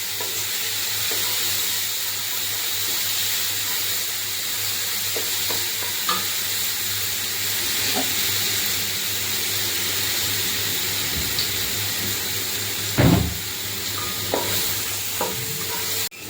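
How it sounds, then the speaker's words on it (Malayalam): Chopped ginger and garlic sauté in a hot pan for chole masala, giving a steady, close sizzle throughout with occasional soft stirring scrapes and clinks. "ഇതിൻ്റെ പച്ചമണമൊക്കെ ഒന്ന് മാറി വഴറ്റിയെടുക്കാം"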